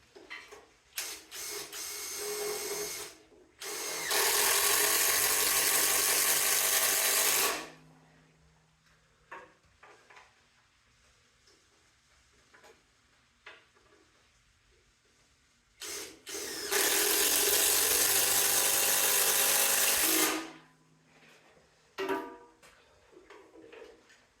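A power drill drives ledger lock screws into a 4x4 post in two long loud bursts of about four seconds each, with quiet handling and small knocks between them.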